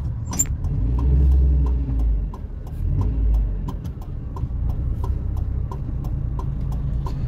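A car reversing slowly during parallel parking practice, its low engine hum steady and close, with a regular ticking click running through it.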